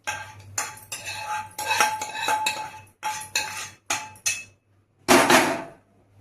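A metal spoon clinks and scrapes repeatedly against a pan, followed by a soft plop as spinach curry drops into a bowl.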